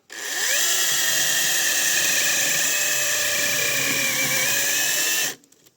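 A Zegor CSPP-21BL cordless battery chainsaw cuts through a metal structure, its steady high whine holding for about five seconds before it abruptly winds down and stops; the tool is close and loud, with no talk.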